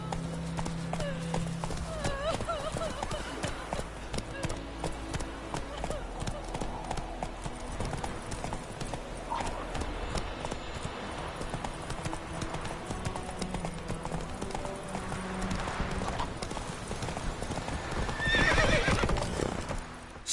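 Hooves of Roach, Geralt's horse in The Witcher 3, clip-clopping in a steady rhythmic gait throughout, with a whinny and voices talking over the game audio.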